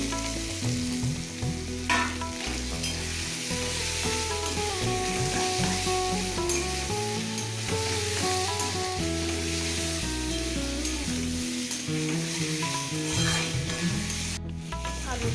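Potatoes added to well-fried spice masala sizzle and hiss steadily in a hot pan while being stirred, with scraping and clattering from the spoon throughout and no talking.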